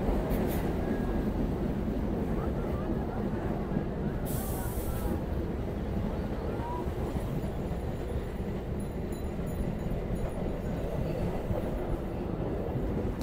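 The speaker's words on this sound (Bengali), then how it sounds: "আর আমাদের ট্রেন এখন চলে এসেছে বারুইপাড়া" Local train on the Howrah–Masagram chord line pulling into Baruipara station in Singur block, Hooghly district: a steady, loud rolling rumble of wheels and carriages that carries on unbroken, with faint clatter on top.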